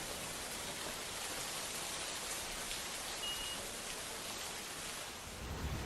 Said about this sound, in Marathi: रत्नागिरी रायगडमध्ये तुफान पाऊस पडतोय।